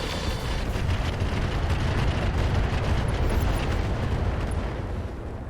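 Bombs go off in the mech game RogueTech, giving a dense, continuous roar of overlapping blasts and crackling debris that stays loud throughout, with no voices over it.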